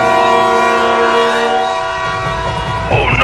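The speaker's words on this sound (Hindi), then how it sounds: "वो ट्रेन चलने लगी।" A cartoon train sets off with a loud, sustained horn-like whistle over rumbling rail noise, followed by a rising clatter of wheels as it gathers speed; no one speaks.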